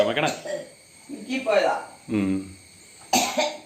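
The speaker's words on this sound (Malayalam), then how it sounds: "ഓ തുമ്മലും ചുമ എല്ലാം കൂടെ" A person coughs several times close by, short harsh bursts with breathy gaps between them.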